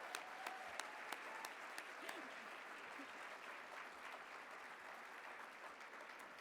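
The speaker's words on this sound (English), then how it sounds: "just a huge round of applause for your 2022 Spotlight on Success Local Heroes" Sustained audience applause at the 2022 Spotlight on Success Local Heroes awards ceremony, a dense, steady wash of clapping from a crowd that carries evenly throughout without talk over it.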